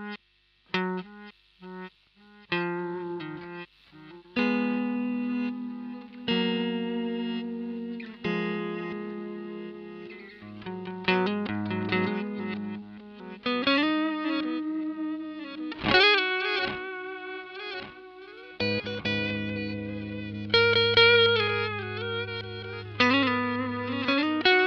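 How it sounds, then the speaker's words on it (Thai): Electric guitar played through a Boss DD-8 digital delay pedal in reverse mode, its repeats swelling backward into each note, alone with no talk. Chords and melodic phrases ring out with layered, washy trails throughout. "ต่อมาเป็นรีเวิร์สดีเลย์นะครับหรือดีเลย์ที่เอาเสียงดีเลย์เนี่ยไปเล่นย้อนกลับจากหลังมาหน"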